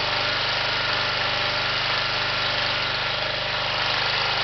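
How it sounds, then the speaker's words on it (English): A generator engine running on wood-gas from a gasifier idles steadily with a continuous mid-frequency drone and a regular knocking pulse, close and loud with no talk. "So there we are, generator's running."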